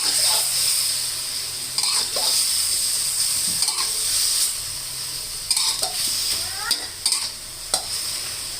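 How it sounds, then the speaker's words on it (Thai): Pork and bell peppers stir-frying with soy sauce and sugar, a loud continuous sizzle close by with frequent scraping and clanking of a spatula against the pan, no voices. "ซีอิ๊วขาวค่ะลงไปค่ะ ผัดค่ะ ผัดนะคะผัดจะเข้ากันค่ะ"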